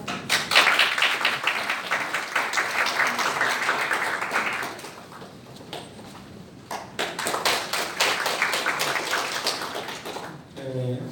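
A room full of people at a gathering in the National Assembly members' hall in Yeouido claps to welcome a speaker; sustained, fairly close clapping dips briefly midway, then swells again before fading.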